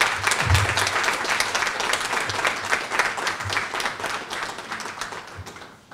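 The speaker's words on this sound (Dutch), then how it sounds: "Mag ik alvast een applaus hiervoor?" An audience at a meeting breaks into lively applause, dense clapping that stays strong for several seconds before thinning and fading out at the end.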